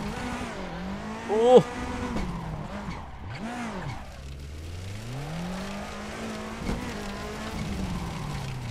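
A Ford Focus rally cross car slides on tarmac in a racing game, its engine note rising and falling with a brief sharp tire squeal, while a voice gives a short exclamation over the steady engine drone.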